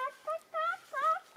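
A person imitates a hen in a French forest, giving four short, warbling, clucking bursts in quick succession, close and fairly clear.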